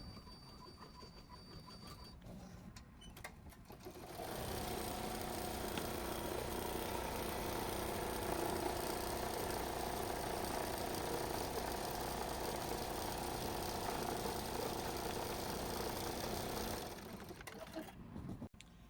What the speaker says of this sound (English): press the green button, which is going to go ahead and do the placement stitch for us